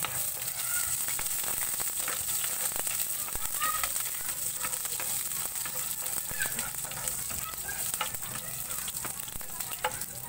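Garlic sizzles steadily in a hot pan as it is sautéed for pancit canton, a continuous bright frying hiss broken by small crackles and occasional stirring clinks.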